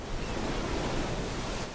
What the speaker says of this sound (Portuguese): estas ondas são vastas e mortais